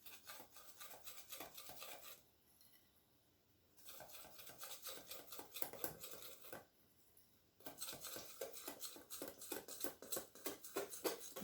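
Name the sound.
mixing savane cake batter with egg and milk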